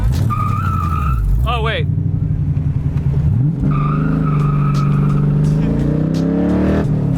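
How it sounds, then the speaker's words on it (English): A car performs a burnout, with a loud engine revving and rough tire skidding close by, a brief squealing whine mid-way and someone speaking briefly over the noise. "You want to see me do a burnout?"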